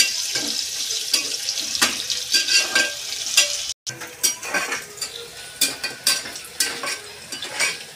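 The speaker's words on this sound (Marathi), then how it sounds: "तेल गरम झाले, त्यामध्ये थोडं 2-3 तेजपत्ते घालायचे आणि कांदा टाकायचा. कांद्याला चांगलं 3 ते 4 मिनिटं चांगलं फ्राय करून घ्यायचं" Onions and bay leaves fry in hot oil for an easy biryani, a crackling sizzle under loud metallic stirring clinks and scrapes against the pan, with a brief cut midway.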